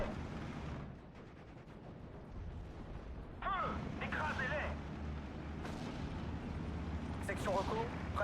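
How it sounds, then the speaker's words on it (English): Opel Blitz munition truck blowing up in the Steel Division: Normandy 44 battle game, with a rumbling stream of artillery booms and gunfire, someone speaking over the clamor. "that's the Opel Bliss munition going down"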